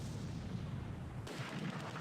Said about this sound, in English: They do have some mortars, too, by the looks of it. They just dropped one on us.